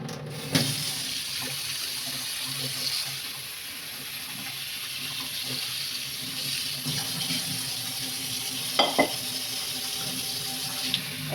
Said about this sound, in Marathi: नूडल्सवरती आपल्याला असं थंड पाणी सोडून घ्यायचं आहे